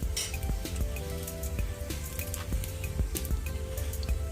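A rice thalipeeth flatbread fries in oil on a pan, with a continuous close sizzle, scattered crackling pops and soft dull taps throughout.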